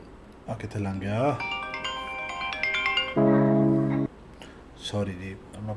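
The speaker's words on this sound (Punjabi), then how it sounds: "ਆਪਣਾ ਫੋਨ ਵੱਜ ਗਿਆ ਸੀ ਗਲਤੀ ਨਾਲ" A mobile phone ringtone plays a bright melodic tune indoors, rising and falling tones repeating for a few seconds, with faint background sound around it.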